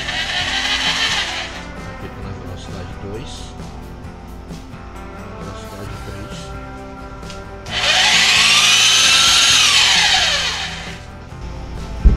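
A Schulz 900W belt sander switches on indoors in a workshop lab, roaring loudly for a few seconds with a rising then falling whine as it spins up and winds down, after a quieter stretch of low mechanical hum and handling noise.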